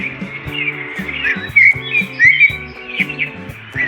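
Birds chirp and tweet throughout in bright, overlapping calls, with a steady musical tone playing underneath.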